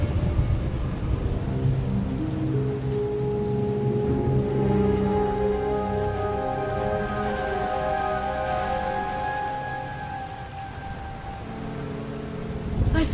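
Heavy rain pours steadily in a thunderstorm in the video game Star Wars: The Old Republic, a dense loud wash with low rumbling thunder and tonal ambient music layered over it, continuous with no speech.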